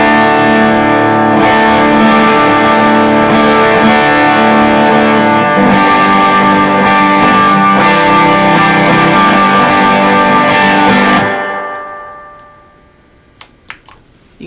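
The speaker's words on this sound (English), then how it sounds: "So as my kind of foundational overdrive, I've got a Walrus Audio Voyager." Overdriven electric guitar through a Walrus Audio Voyager pedal with heavy spring reverb from a Boss RV500, loud sustained chords that fade into a reverb tail, then a few light picked notes.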